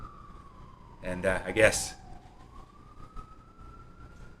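A faint siren from emergency vehicles on a New York street, heard from inside an apartment through a window with an air-conditioning unit. It wails steadily and drifts in pitch under a brief burst of nearby talking.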